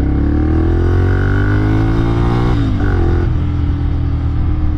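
A Ducati Monster 796 motorcycle ridden at an easy pace, its engine a steady loud drone with the pitch rising gradually, then dipping briefly as if shifting gear before carrying on.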